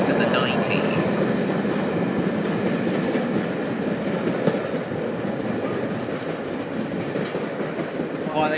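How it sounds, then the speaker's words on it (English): An old 1950s–60s slam-door electric multiple unit train running, a steady rumbling roar with faint clickety-clack, continuous and fairly close throughout. "So these clapped-out slam-door EMUs built all the way back in the 50s and 60s"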